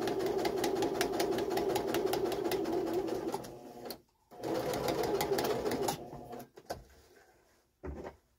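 A sewing machine stitches a curtain panel with rapid, loud, rhythmic needle chatter that stops and restarts several times, leaving short silent gaps and a final brief burst.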